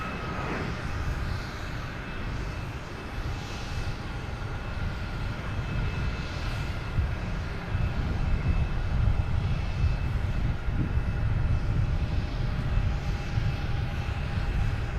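A United Airlines jet departing Boston Logan for Houston gives a steady, broad engine roar that holds for the whole stretch and swells slightly louder midway, with faint tonal whine on top.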